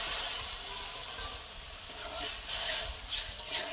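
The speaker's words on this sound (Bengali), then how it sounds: "এদিকে জলটা ফুটতে থাকুক" Water heating in a cooking pot for a greens dish, a steady close sizzle and hiss with soft bubbling surges, no voices.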